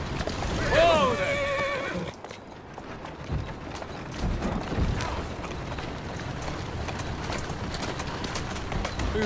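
A horse in the Assassin's Creed Syndicate video game gives a loud whinny, then its hooves clip-clop steadily on and on, with a voice talking over it.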